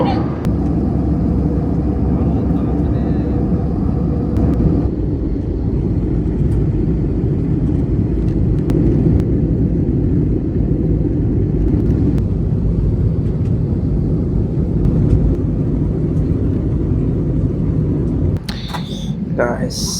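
Steady airplane cabin roar as the plane descends to land at Abu Dhabi, a broad constant rumble running throughout, with a brief disturbance near the end.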